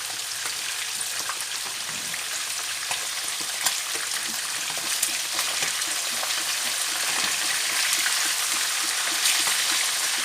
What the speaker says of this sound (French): Le poisson est en train de cuire.